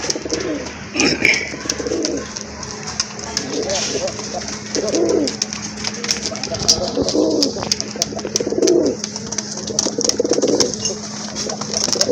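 A pair of sky-blue local pigeons coo in repeated soft, low rounded phrases close by, with a steady hum and faint background noise throughout.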